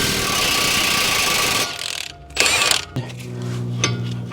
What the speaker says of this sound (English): now I like to break loose this axle nut here